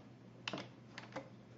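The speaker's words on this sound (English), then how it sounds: "I'm going to use my arrow keys," Arrow keys tapped on a computer keyboard while adjusting shapes in Illustrator, a few faint, crisp clicks in two quick pairs over a quiet electrical hum.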